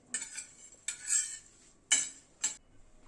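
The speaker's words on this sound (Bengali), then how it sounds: "মশলাটা মিনিট খানেক নাড়াচাড়া করলাম, কেননা যেহেতু তাওয়াটা গরম ছিল" A spoon stirs a roasting spice mix on a hot griddle with four separate sharp metallic scrapes, up close and spaced apart, against a quiet background.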